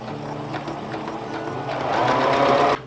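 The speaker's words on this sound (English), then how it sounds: "when I'm sewing this, I'm sewing it at, it's about a 5/8 inch space from the edge of the fabric to where I'm sewing" A sewing machine runs steadily, stitching a fabric seam for a farmhouse apron about 5/8 inch from the edge, its motor hum growing louder near the end before cutting off abruptly; no talking.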